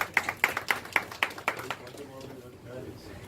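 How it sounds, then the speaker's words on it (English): A short burst of audience clapping at a CPR demonstration, about half a dozen quick claps in a steady rhythm that fade out after under two seconds, fairly close. "Give a big applause to"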